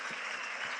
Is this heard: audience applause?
yes